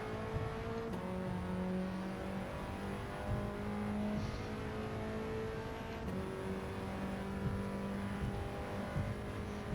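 An Alpine A110 in Gran Turismo 7 on the Tokyo Expressway holds a steady engine drone at sustained speed, with a constant tonal hum and faint whine running unbroken throughout.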